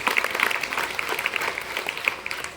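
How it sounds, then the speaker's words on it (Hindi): School audience clapping for top-scoring students at an intercollege ceremony, a brisk crackle of many hands with uneven sharp claps, moderately loud throughout. "ताली बजाएं"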